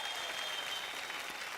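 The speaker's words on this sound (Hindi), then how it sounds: "एक जोरदार ताली बजा दो महाराज।" An audience gives steady, even applause for a singer as he comes up to sing. The clapping is fairly soft and lasts only a moment.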